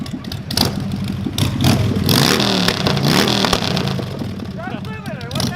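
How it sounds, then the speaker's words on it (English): A motorcycle engine revs hard and bounces against its rev limiter, loud and close, while people talk and shout over the stuttering roar. "Mark, give me a rev limiter!"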